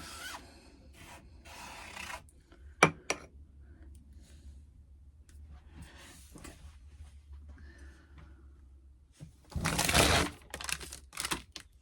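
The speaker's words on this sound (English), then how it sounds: "And just scrape up any excess that's on the screen as well." A scraper drags excess ink across a screen printing screen in a shed, giving soft intermittent rubbing strokes with light knocks and a louder, rasping scrape burst near the end.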